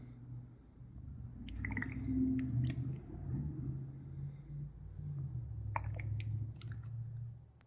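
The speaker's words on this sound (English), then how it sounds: "Let's see what happens as I add some distilled water." Distilled water is added a little at a time to a dry 55Ah battery, giving close wet squishing and dripping sounds with a few small clicks, steady and unaccompanied by speech.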